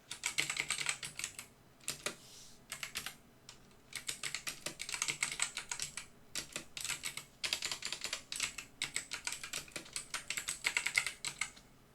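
A computer keyboard clatters as a chart title is typed in a PowerPoint exercise, with fast close keystrokes in bursts and a few short pauses, and no voices.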